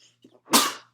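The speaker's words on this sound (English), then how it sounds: "One second, let me sneeze." A single close, sharp sneeze with a brief breathy intake just before it, then quiet.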